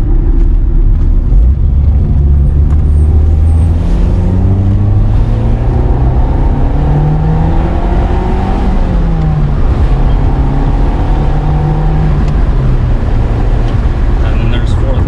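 A 1991 Nissan Pulsar GTi-R hatchback engine pulls hard through the gears, its rising and falling revs clearly traced as each shift lands, loud and close with someone talking over it.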